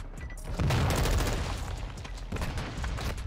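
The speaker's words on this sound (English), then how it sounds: "I don't even know where I'm getting shot from." Modern Warfare 2 multiplayer gunfire from an M4 class build and enemy weapons, dense rapid bursts of shots layered with booming impacts, loud and continuous with a brief lull before firing resumes.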